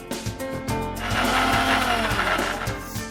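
A mixer grinder runs steadily, grinding raw Malabar spinach and fenugreek leaves into a paste, its loud motor whirring continuously with a slight rise in pitch midway.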